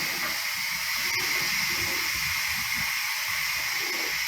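Steam hisses loudly and steadily from the release valve of a Quick Cooker pressure cooker cooking grits, a continuous close broadband rush with no pauses.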